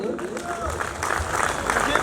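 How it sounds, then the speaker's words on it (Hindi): An audience at a Hindi poetry recital (kavi sammelan) claps for police officers seated in the crowd. The applause is a diffuse, mid-level patter running beneath a voice that keeps talking over it. "पर उनके लिए भी एक बार ताली बजा दीजिए।"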